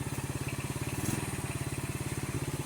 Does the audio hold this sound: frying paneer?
no